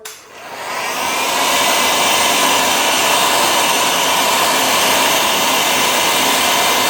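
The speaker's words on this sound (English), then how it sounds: "So as I speed up the dry time using the heat gun," A heat gun blows steadily and loudly, drying repair paint on a flaking, bubbled bathroom ceiling, rising to a constant whooshing roar within the first second and holding unbroken throughout with no talking.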